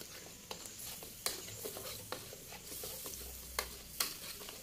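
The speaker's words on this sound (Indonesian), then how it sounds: "Kita tumis ya" Turmeric and spices sautéing for yellow rice, a soft steady sizzle under sharp spoon taps and scrapes against the pan, close and fairly quiet, with no talk.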